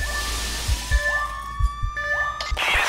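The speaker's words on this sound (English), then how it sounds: "Sirens, I hear them. Cops are on their way." Police sirens wail in the heist video game Payday 2, with rising electronic siren tones repeating over low thuds and a crash near the end.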